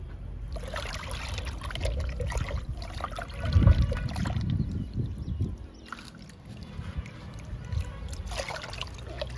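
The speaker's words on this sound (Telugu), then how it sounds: "ఇప్పుడు ఈ లిక్విడ్ని మనం మళ్ళీ మొక్కకి ఇద్దాము." Liquid fertilizer made from kitchen waste is poured onto a potted jasmine plant, making a soft, uneven trickling and splashing that swells briefly in the middle and then tapers off.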